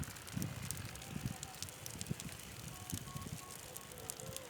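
A fire burns across an open field, a soft continuous crackling and rushing with wind buffeting the microphone, fairly faint and steady throughout.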